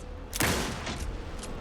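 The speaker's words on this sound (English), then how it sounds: "Anderson, pin him down with gunfire for me to get the light on him." Gunfire in the video game Alan Wake 2 bursts out in a loud, sharp volley, followed by a few fainter shots over steady background noise.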